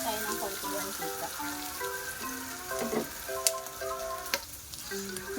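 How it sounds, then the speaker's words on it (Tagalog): Vegetables for pinakbet sautéing in oil, a soft steady sizzle with clinks of a utensil stirring the pan, faint and close, with a person talking over it. "May magigisa na tayo dito."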